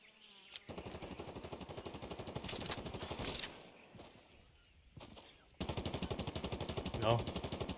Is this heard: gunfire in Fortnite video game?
yes